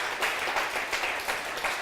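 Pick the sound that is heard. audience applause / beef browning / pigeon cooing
audience applause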